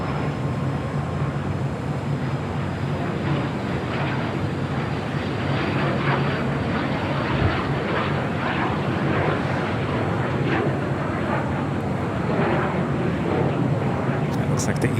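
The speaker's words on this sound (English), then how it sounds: "Looks like the Eva Air Cargo 777 crossing over 25 left" A Boeing 777 cargo jet crossing a runway at LAX: a continuous broad, rumbling engine roar at moderate distance fills the whole stretch, with a voice talking over it throughout.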